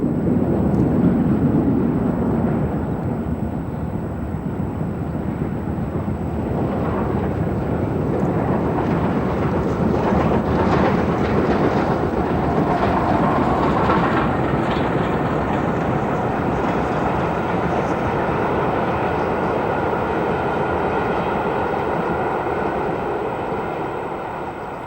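LNER express steam locomotive Flying Scotsman runs on a special working, a loud, continuous broad rumble of engine and rolling stock that holds steady and fades slightly at the end.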